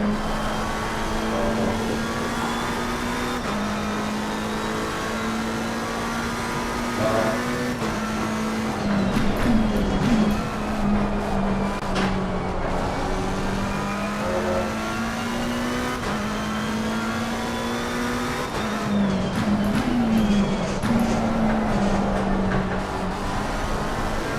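A race car in the Assetto Corsa Competizione sim racing at Barcelona, its engine note dropping and rising as it brakes and downshifts, then accelerates again, loud and continuous throughout.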